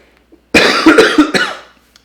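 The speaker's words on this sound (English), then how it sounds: "So this is why I'm coughing." A sick man coughs several times in a quick burst, close and fairly loud, with a brief throaty rasp between the coughs and quiet before and after.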